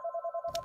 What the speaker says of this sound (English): No, sorry, that's our phone again.